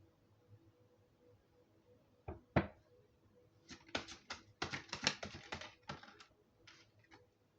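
Tarot cards are shuffled in quick crisp bursts of clicking and snapping, close by, after a couple of isolated taps, with no speech.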